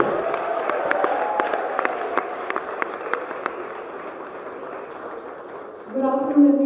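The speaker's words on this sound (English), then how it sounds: "A big round of applause for our chief guest," An audience claps for chief guest Vidya Balan at the unveiling of a Smartcane device for the visually impaired. The claps are scattered and sparse, running for several seconds under steady talking before fading out.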